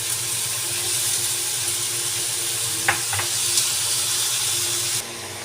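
Mushrooms fry in a tomato gravy in a pan with a continuous, close sizzle, broken by a couple of sharp utensil clinks midway before the hiss suddenly drops off at the end.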